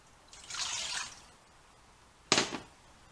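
Water poured into a pot for blueberry jalapeño jelly in a home kitchen: two short splashing pours, the second brief and louder, with quiet pauses around them.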